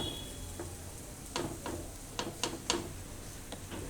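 A Kashmiri paratha on a hot griddle over a very low gas flame gives faint, sparse sizzling with scattered soft crackles and ticks, quiet and close against a low background hiss.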